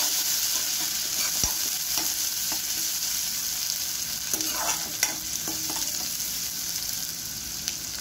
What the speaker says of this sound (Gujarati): એની અંદર આપણે આદુ મરચાં અને લસણની પેસ્ટ નાખશું.